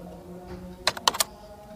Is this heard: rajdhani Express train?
no